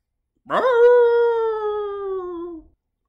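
A single long, clear wolf howl from a blood wolf, used as an audiobook sound effect, rising sharply then holding a steady, slightly falling tone for about two seconds against silence.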